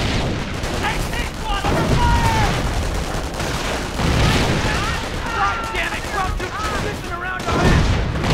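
Gunfire from the World War II strategy game Company of Heroes, with a machine gun firing rapid bursts amid dense battle noise and distant explosions, continuous and loud throughout, with excited talk over it.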